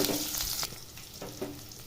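Chopped onions frying with bay leaf, cinnamon, clove and stone flower in a pan for egg gravy, a steady close sizzle with a brighter hiss at the start and a few soft stirring scrapes.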